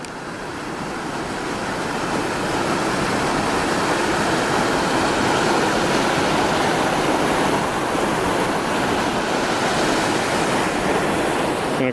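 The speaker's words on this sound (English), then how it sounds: "we see the water heading downstream to the other locks that we encountered" Water rushes steadily downstream through the old stone-and-concrete channel of the second Welland Canal toward the locks, a loud, constant broadband roar close by with no talking.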